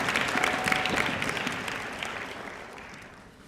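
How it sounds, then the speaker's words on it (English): An audience at a Martin Luther King Jr. commemoration event claps together in a warm burst of applause for sign language interpreters that gradually thins and fades away over a few seconds. "can we please just applaud our sign language interpreters who have been doing an incredible job"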